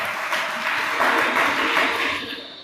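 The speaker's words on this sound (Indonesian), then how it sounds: "Berikan tepuk tangan buat Tuhan." A church congregation claps together in a dense, sustained burst of applause that fills the room, rising slightly and then fading out toward the end.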